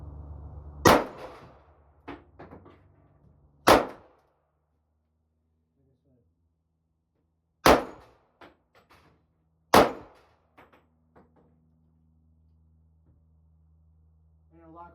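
Four sharp AR-15 rifle gunshots ring out at a shooting range, spaced several seconds apart and loud and close, with a faint voice and background hum between them.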